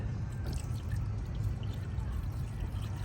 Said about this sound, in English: I'm going to top this off with water